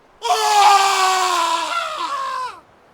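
A man lets out a single long, loud scream lasting over two seconds, harsh and wavering, sliding slightly downward before cutting off, as a dramatic effect in a ghost story about a pirate king.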